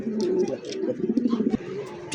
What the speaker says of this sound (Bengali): দর্শক এই মুহূর্তে দেখতে পাচ্ছেন খুব সুন্দর ব্লুবার একজোড়া শৌখিন কবুতর